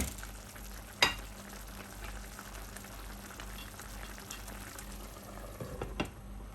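Mango chutney simmers on a low flame, a faint, steady bubbling and sizzling in the pan with a single soft clink near the start and a few light stirring sounds toward the end, no talking.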